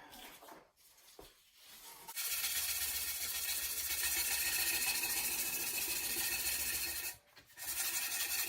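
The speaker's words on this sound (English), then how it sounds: "And that's the sanding." A rattan sword for SCA combat is sanded, giving a loud, continuous abrasive rasp that runs for several seconds and pauses briefly, with short quieter scraping strokes before it.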